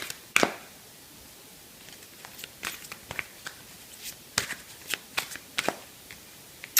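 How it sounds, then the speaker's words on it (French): Vampire-themed oracle cards are shuffled and slid across a surface, giving a quiet run of soft, irregular flicks and snaps with nobody speaking. "je vais prendre les cartes des vampires. Alors, avec les cartes des vampires, hop, je vais peut-être un peu décaler mes petites cartes"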